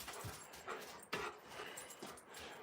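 Alaskan Malamute puppies pant and give a few brief whimpers near a window, with soft breathy pants and short whines spread across a couple of seconds, no talk.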